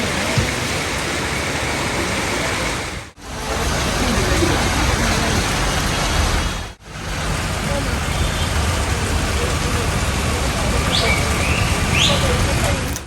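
Steady, heavy rain roars as a dense hiss, broken twice by brief cuts in the sound.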